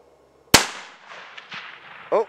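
A rifle fired at a hog 293 yards away gives a single sharp, loud crack followed by a lingering outdoor rumble and faint distant echoes, with brief voices near the end.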